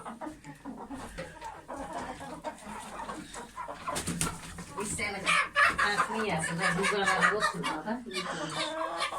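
Chickens cluck and squawk close by on a farm, with a speckled rooster calling among them, while people talk over the birds in the background.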